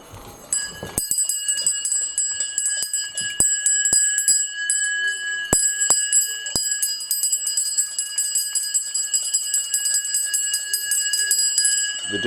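A bell rings continuously with rapid repeated strikes, bright and ringing, and its overlapping tones sustain loudly for the whole stretch.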